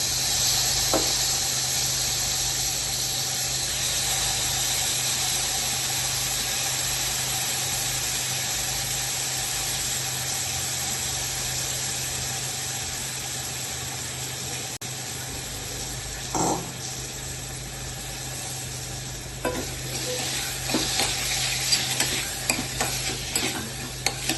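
A steady, broad sizzle of French beans frying in a pan holds throughout, with a few scraping stirs near the end and no talking.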